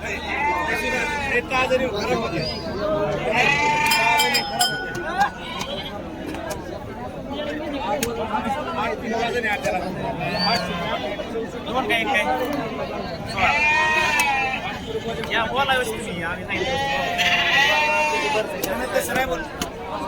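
Sheep bleat repeatedly, several animals calling at intervals at the Kashti sheep market over a busy crowd of people chatting and talking nearby.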